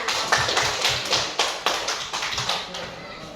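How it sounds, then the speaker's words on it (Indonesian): A small classroom group of students claps in a loose rhythm, a handful of sharp, close, separate hand claps spread over a few seconds and tapering off, with no talking. "Tepuk tangan."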